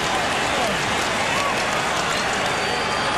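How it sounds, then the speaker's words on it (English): A basketball arena crowd at the 2000 NBA Finals chants for defense, a dense continuous roar of many voices filling the space. "you can hear the crowd here, Bob, just chanting for some defense"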